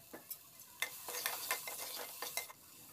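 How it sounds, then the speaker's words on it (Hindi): Spices including turmeric, coriander powder, cumin, black pepper and cinnamon with salt are stirred and roasted with vegetables in a pan, with repeated scraping strokes over a soft, steady sizzle. "सब्जी मसाले सब चलाते हुए थोड़ा सा भून लेंगे।"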